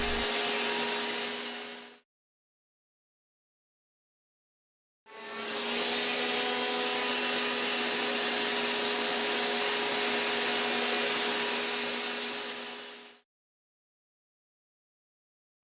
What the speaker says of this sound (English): That belt cleaner eraser works really well on an orbital sander as well.